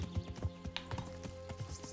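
Horse hooves trotting in the video game Kingdom Come Deliverance, a steady run of close, regular clip-clop beats with no talk over them.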